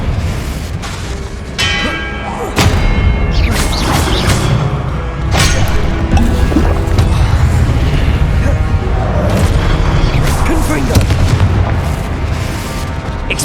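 Repeated Confringo blasting spells in Hogwarts Legacy (2023) burst out as loud, booming explosions one after another over a dense, clattering battle mix, with spoken incantations mixed in.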